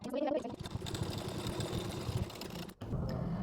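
A sewing machine runs a line of finishing stitches beside a blouse's extension strip, a steady rapid mechanical rattle with a brief pause near the end before it resumes, under a faint voice.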